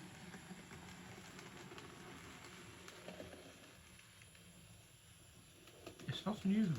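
A Micro Ace D52 model locomotive runs on a small exhibition layout, producing a faint, steady, rather noisy mechanical whirr and rumble, with a voice briefly breaking in near the end.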